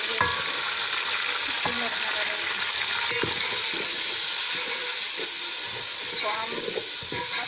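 Tomatoes, green chillies and spices frying in a pan for an egg and chickpea curry, a loud continuous bright sizzle with occasional spoon scrapes and knocks throughout, close up and with no voices.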